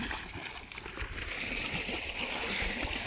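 Water gushes steadily from a running motor pump, a continuous loud splashing and sloshing rush with no pauses.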